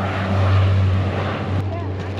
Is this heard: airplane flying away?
yes